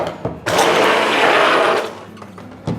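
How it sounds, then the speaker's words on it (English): A kitchen blender runs steadily for roughly a second and a half as it mixes ingredients in a mixing bowl, a loud close whirring that starts abruptly and stops, with brief clatter before and after. "And mix with a blender for about 10 seconds."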